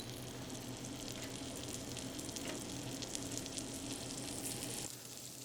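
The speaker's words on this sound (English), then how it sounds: "Now we got some melted butter in the pan. Let's brown these steaks." Steaks browning in melted butter in a hot pan give a steady, loud sizzle and crackle that runs unbroken throughout, with no talking.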